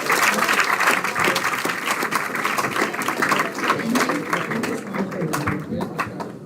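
A conference audience gives a round of applause after a session on demographic trends, a dense clapping wash that holds steady and then tapers off near the end, with some speech mixed in.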